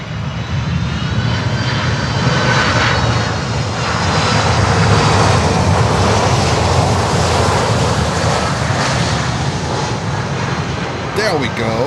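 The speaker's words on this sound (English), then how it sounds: "Maersk Air, Boeing factory freighter." Maersk Air Boeing freighter jet at Miami Airport, a loud, sustained engine roar that swells and holds steady for the whole stretch, with wind buffeting the microphone.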